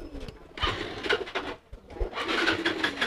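Pigeons coo repeatedly in a courting pair kept by a pigeon seller, with several soft, rounded coos pulsing close by in an uneven rhythm.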